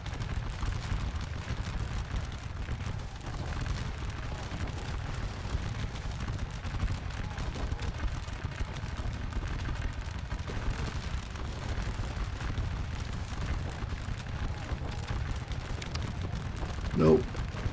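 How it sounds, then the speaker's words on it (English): Artillery batteries in Scourge of War Waterloo keep up a steady low rumble of distant cannon fire across the whole stretch, with a voice talking over the continuous booming. "Rogers' guns will automatically unlimber and fire on their own"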